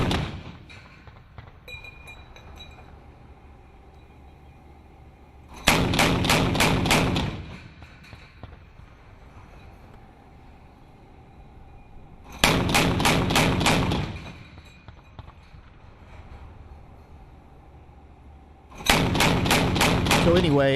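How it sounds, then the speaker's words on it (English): A ship's gun fires at a towed target box at sea, three loud sustained bursts of roughly two seconds each, spaced about six seconds apart, over a steady background hum with faint radio chatter between them. "It's a different gun that they're going to fire."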